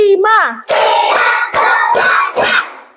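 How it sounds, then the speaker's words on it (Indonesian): Primary school children in a grade 2 classroom clap hands in a counted rhythm, with a short voice at the start followed by four loud, nearly evenly spaced bursts of clapping from the group. "Tepuk 1, tepuk 2, tepuk 3, tepuk 4, tepuk 5,"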